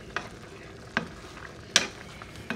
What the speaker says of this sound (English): do you want to try stirring it just to show him?